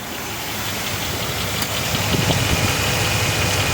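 The 4.7L V8 Magnum engine of a 2003 Dodge Durango idles steadily with a broad, even rumble and mechanical hiss, heard up close under the open hood after an alternator replacement, and there is no talking.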